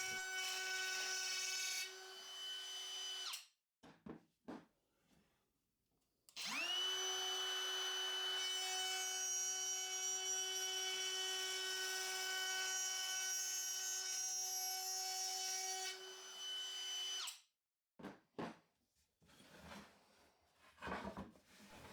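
A router cutting wood while guided along a HONGDUI HD30-KY fence, a loud sustained high whine that drops out for a few seconds, spins back up for a long cut, then gives way to clunks and handling noises.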